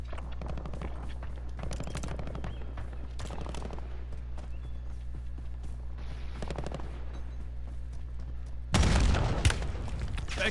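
Bursts of automatic gunfire in the video game Black Ops 6 Warzone crackle in several rapid volleys over a constant low game drone, with a louder, denser exchange of fire near the end.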